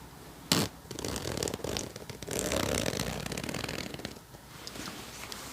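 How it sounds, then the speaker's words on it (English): A zipper with a small leather pull on a vest is run open and closed in quick rasping strokes, close and soft, with cloth rustling around it. "We have a zipper here with a little leather zipper"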